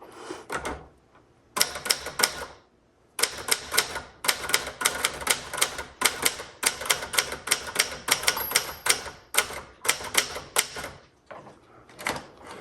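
Rapid clattering keystrokes of a 1967 Adler J4 manual typewriter in bursts, sharp mechanical clacks with brief pauses between runs, close and clear.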